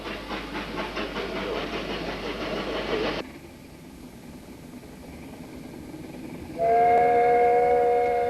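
Prince, an 1863 steam locomotive on the Ffestiniog Railway, chuffs in a steady rapid beat, falls to a quieter rumble, then sounds a loud, sustained whistle near the end; no speech.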